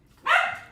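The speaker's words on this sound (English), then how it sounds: "Oh, I may have to get up to let the dog in." A single short bark from a dog wanting to be let in, fairly close and clear, in a quiet room.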